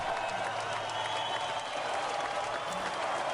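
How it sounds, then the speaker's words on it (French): A dense wash of applause with cheering voices mixed in, steady and loud throughout, like a large crowd clapping all around. "il y a un tonnerre d'applaudissements et des acclamations qui retentissent autour de vous"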